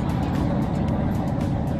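A car cruising along a motorway in Denmark, heard as a steady, loud road and engine rumble that stays even throughout, with no talking.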